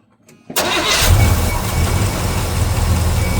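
Small block Chevy V8 engine cranking briefly, then catching and settling into a loud, steady rumbling idle, close up with no talk.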